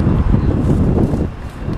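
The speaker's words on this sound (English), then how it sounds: "Wow, it's windy today." Gusty wind buffets the microphone with a steady low rumble throughout, loud and close, with faint rustling in the background.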